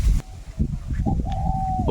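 A pair of doves coos softly in the background while a voice speaks nearby, with a rising whistle-like tone near the end.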